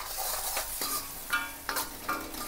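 Green chilli sauce, vinegar and soy sauce fry in a pan for street-style veg Manchurian, hissing softly as a spoon stirs with several scraping strokes and light clinks against the metal.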